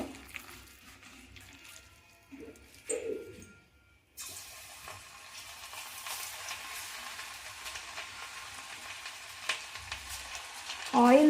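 Cauliflower pakodi fry in hot oil with a soft, uneven sizzle and the occasional scrape of stirring, quiet at first and then a steadier bubbling hiss, ending with a brief higher-pitched sound.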